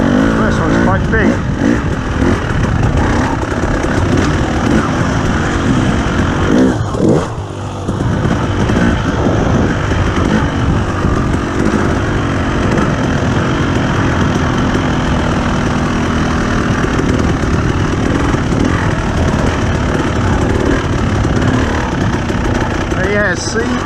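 A 2021 KTM 300 TPI two-stroke dirt bike fitted with a GET race kit revs hard on the throttle in second gear over a log section, loud and continuous with a brief dip midway.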